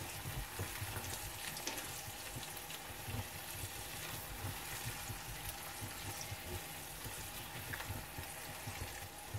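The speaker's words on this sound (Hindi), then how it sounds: "इसको जब तक मैं भून लूँगी जब तक कि दही का पानी अच्छी तरह से खुश्क ना हो जाए" Chicken with spices and yogurt fries in oil in a pot, a steady dense sizzle and crackle running throughout with faint stirring, no talk.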